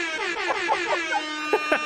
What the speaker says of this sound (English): you do not get the privilege Hey, of din din din din the air horn, son